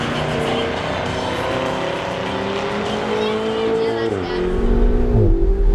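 A high-powered supercar engine roars steadily at speed on a race track, its pitch dipping briefly at a couple of gear changes before pulling hard again.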